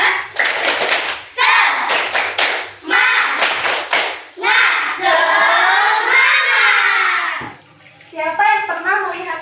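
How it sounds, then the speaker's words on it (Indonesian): A school class does a rhythmic spirit clap, a pattern of sharp group claps and thuds mixed with children chanting loudly together, ending with a short burst of claps. "Itu kita tepuk semangat dulu."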